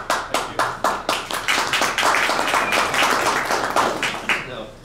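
Clapping at a construction contracting outreach meeting starts as a few sharp, separate claps and quickly builds into dense, continuous applause from the audience before thinning out again at the end.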